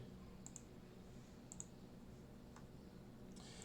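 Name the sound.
mouse click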